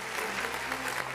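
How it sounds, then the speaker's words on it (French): An audience applauds a guest called Papa Ado, a short continuous patter of many hands clapping, with a low steady hum underneath. "on applaudit pour Papa Ado déjà"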